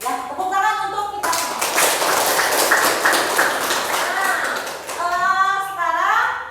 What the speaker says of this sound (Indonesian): Ya, tepuk tangan untuk kita.